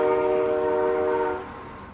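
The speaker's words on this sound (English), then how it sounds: "got a train going by." A train passes near the tracks at dawn with a sustained, loud horn blast that holds steady and then cuts off, leaving the lower rumble of the rail cars fading.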